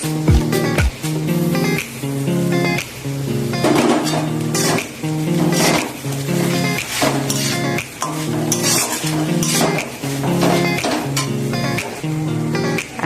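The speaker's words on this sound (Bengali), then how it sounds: "ভালো করে নাড়াচাড়া করে নেব" A utensil stirs chowmein noodles with fried egg and sauce in a pan, giving repeated rhythmic scraping and clanking strokes over a soft sizzle. The strokes are loud and close, with no talking.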